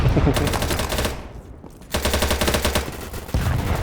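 Rapid automatic gunfire in the shooter BattleBit Remastered, loud and close, in dense bursts that break off briefly mid-clip and then resume with steady repeated shots.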